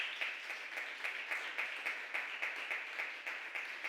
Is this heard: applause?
yes